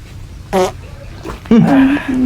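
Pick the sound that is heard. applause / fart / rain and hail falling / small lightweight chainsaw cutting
fart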